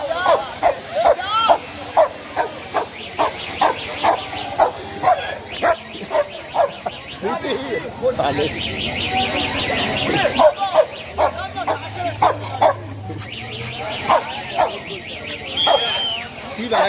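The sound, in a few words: dog barking at a dog market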